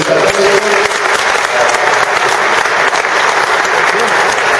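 Loud, sustained applause from an audience at a public meeting in Chiari, Italy, with many hands clapping in a thick, continuous roar that stays strong throughout and carries no clear speech.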